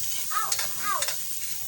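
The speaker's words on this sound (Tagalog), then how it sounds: "Hahaluin ko lang po." Fried fish being stirred in a pan, spatula scraping in two quick strokes over a steady hiss of frying oil, close and alone without talk.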